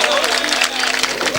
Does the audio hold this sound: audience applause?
yes